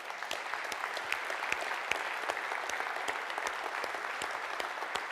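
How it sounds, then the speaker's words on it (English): An audience claps steadily and continuously, a dense patter of many hands with occasional sharper claps standing out. "give the women in the room a round of applause"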